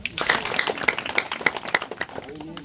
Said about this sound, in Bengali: হাততালি দেই।